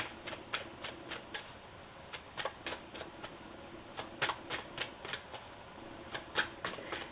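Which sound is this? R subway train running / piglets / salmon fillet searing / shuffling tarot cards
shuffling tarot cards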